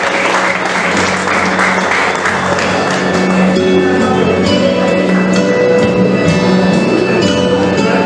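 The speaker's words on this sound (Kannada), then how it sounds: "ಜೋರಾದ ಚಪ್ಪಾಳೆ ಬರಲಿ" Sustained, loud applause from a crowd at a pigeon tournament grand finale prize ceremony continues evenly throughout, with a steady tonal hum running beneath the clapping.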